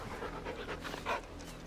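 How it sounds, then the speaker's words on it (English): A hunting hound in the Final Fantasy XVI video game pants in quick, steady breaths, close and moderately loud, with a short louder burst near the end and no talking over it. "Good dog. What a fine hound."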